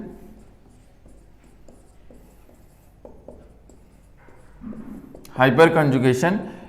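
Pen writing on paper while taking notes in a chemistry lecture, soft faint scratching strokes in a quiet room, followed by someone speaking loudly near the end.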